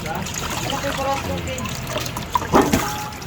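Running water trickles and splashes steadily as fish is rinsed in a kitchen for sinigang, with a brief louder slosh near the end and a voice speaking faintly underneath.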